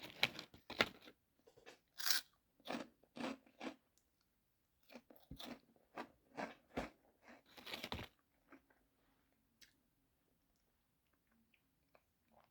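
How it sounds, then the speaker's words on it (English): Close, crisp crunches of someone biting and chewing crisps, a run of sharp irregular bites over several seconds that thins to a few soft chews and then quiet. "I've got a drink and some crisps"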